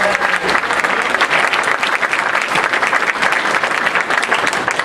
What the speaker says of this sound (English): I want to hear a huge round of applause for Steve Wacker and the team and all of the